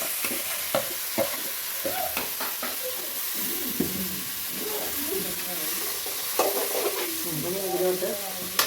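Onion dropped into hot oil in a pressure cooker sizzles and fries while being stirred, with scraping stir strokes and crackling bursts over a steady hiss.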